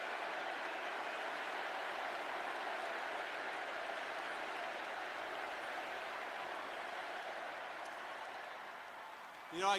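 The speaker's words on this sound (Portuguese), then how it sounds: "J.D. coloca a mão no peito, aplaudido efusivamente pelo público" A large audience at a funeral ceremony applauds without a break, with a sustained wash of clapping and crowd noise that swells sharply at the very end.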